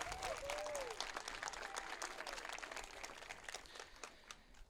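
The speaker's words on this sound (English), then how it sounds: "Let's give a huge round of applause to the O'Brien Middle School Advanced Band" An audience at a school groundbreaking ceremony applauds a middle school advanced band, producing a soft, steady wash of many hands clapping with faint crowd murmur, fading slightly toward the end.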